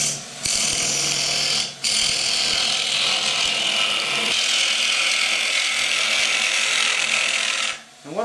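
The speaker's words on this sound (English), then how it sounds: "I'm going to start by boring out the middle as I would normally do" Green timber bowl being bored out on a wood lathe: a steady, loud scraping and cutting roar from the tool on the spinning wet wood, broken by two brief pauses where the cut lifts off.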